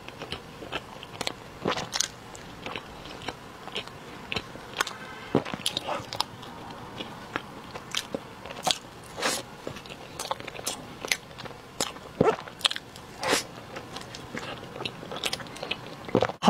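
Crisp bites and crunchy chewing of a matcha-flavored snack with a molten chocolate piece inside, close and clear, irregular crackling crunches repeating steadily for the whole stretch without talk.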